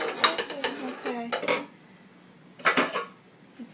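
Plates, pots and cutlery clatter and clink in a few sharp bursts while dishes are washed up, with a short pause in between; a voice is faintly present.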